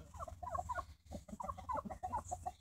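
A rooster gives a string of rapid, throaty gobbling calls in quick bursts, fairly quiet and close, with no talking.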